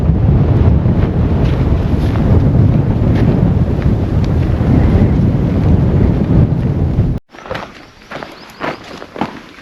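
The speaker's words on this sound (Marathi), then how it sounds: "बऱ्यापैकी वारा आहे" Strong wind roars and buffets the microphone continuously on an exposed fort trek near a flag, then drops off abruptly, leaving a few gusts and faint rustling footsteps.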